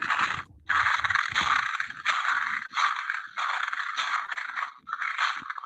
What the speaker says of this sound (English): I guess that's the sound of walking in the snow